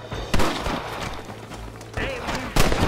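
Gunfire in the Western video game Red Dead Redemption: two sharp, loud shots ring out, one early and one near the end, over steady game ambience while players talk.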